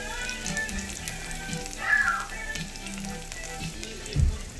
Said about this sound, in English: all that nice onion flavor as it's sauteing